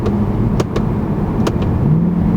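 A 2013 Mercedes-Benz C63 AMG Edition 507 engine rumbles from inside the cabin, a steady close drone with a few quick sharp blips and a rising note as paddle shifts come through.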